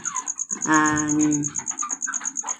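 Baby chicks chirping close by in a backyard pen, rapid high peeps in quick bursts with one longer, louder call partway through, alone without talk.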